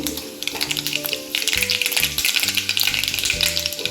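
Mustard seeds crackle and sizzle in hot oil in a pan, a dense, steady frying hiss with rapid popping that carries on without a break. Tonal music plays underneath and no one speaks.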